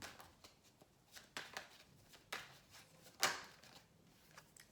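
Tarot cards shuffled by hand give soft, close riffling and tapping sounds in irregular short bursts over quiet background.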